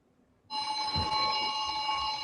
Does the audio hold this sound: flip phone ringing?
yes